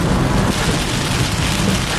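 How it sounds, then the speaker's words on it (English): Heavy Florida thunderstorm rain pours steadily and loudly with a low rumbling undertone of thunder, a dense continuous wash with no talking. "The storm is strong."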